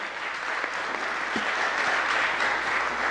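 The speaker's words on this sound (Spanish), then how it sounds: "lo recibimos con un fuerte aplauso al Padre Armando Flores Navarro." An audience gives sustained, even applause to welcome a priest, dense steady clapping from a moderately distant crowd filling a hall for a few seconds with no talking.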